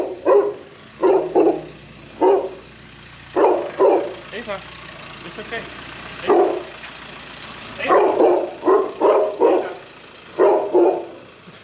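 A Great Pyrenees mountain dog barks in repeated loud bursts, single and in quick pairs, over about twelve seconds, while a person speaks softly between the barks.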